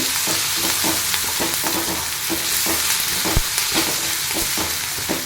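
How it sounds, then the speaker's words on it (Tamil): Grated ginger and vegetables fry loudly in a hot pan with a dense, continuous sizzle, close up. Rapid spatula strokes clatter through it without a pause, and no one speaks. "இஞ்சி கொஞ்சம் துருவி சேர்த்துக்கலாம் கொஞ்சம் வதக்கிக்கலாங்க"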